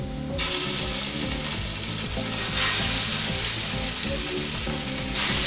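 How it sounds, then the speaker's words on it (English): Italian meatballs sear in a hot pan, a few at a time, with a loud, continuous crackling sizzle under steady background music. "I'm going to sear them in a pan to seal everything and all the flavor on the inside."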